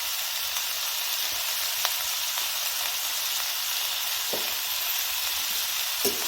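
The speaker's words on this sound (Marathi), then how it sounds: "सगळं परतून घ्यायचं असं. मिक्स परतून घ्यायचं." Cauliflower sizzles steadily in a hot pan with turmeric as it is sautéed, a continuous bright frying hiss with occasional faint clinks of stirring, close and fairly loud with no talking.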